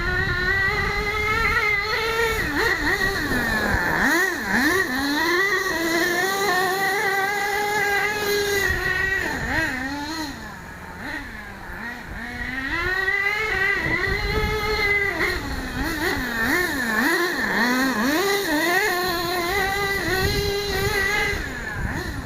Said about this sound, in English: First run of my monster truck for about 2 years.